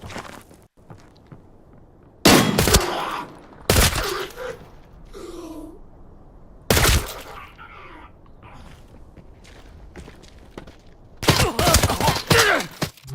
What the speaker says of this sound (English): show you guys the difference here with the suppression weapon